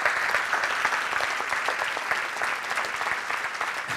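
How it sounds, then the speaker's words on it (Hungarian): Steady audience applause in a hall during a motivational talk, a dense continuous patter of many hands clapping at a constant level for about four seconds, with no voices standing out. "egy tapsot kérek szépen"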